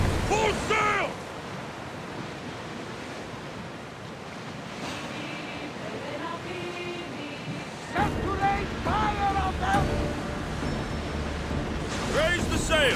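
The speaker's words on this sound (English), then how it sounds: "Rowers, go! Oars in! Full sail!" A ship at sea in Assassin's Creed Odyssey, with rowers pulling and sails set: steady wind and wave wash with splashes, plus crew shouts bursting in over the water noise.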